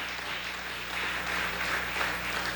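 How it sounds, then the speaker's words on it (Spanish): A church congregation applauds after worship, a steady wash of clapping at moderate distance that swells slightly toward the end, with no voices over it. "Denle un aplauso al Padre, Hijo y Espíritu Santo."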